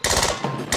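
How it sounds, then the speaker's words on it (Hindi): Rapid gunfire bursts out near a bunker in loud, closely spaced cracks, pauses briefly, then picks up again at the end. "फायरिंग फिर से शुरू हो चुकी है"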